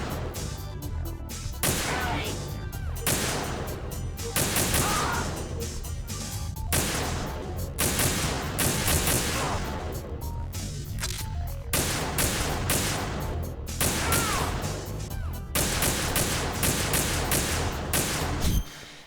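Sniper rifle gunfire in Metal Gear Solid 2, a long run of loud, sharp shots and blasts repeating every second or two, layered over continuous dense game noise.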